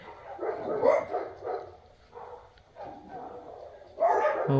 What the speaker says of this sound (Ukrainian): Ну тут такий лай стає.